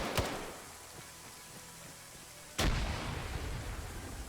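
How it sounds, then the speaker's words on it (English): A grenade explodes in the military video game Arma 3: a sudden, loud, sharp blast followed by a rumbling tail. A softer, earlier crack comes first, over steady ambient battle noise. "Skip throwing a grenade up there"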